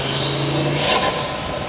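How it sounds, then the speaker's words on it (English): An Audi RS3 turbocharged engine fitted with a Unitronic 4-inch inlet elbow, a brief engine drone with a rising turbo whistle and whoosh as the throttle lifts, heard from inside the car. "I can definitely hear the turbo"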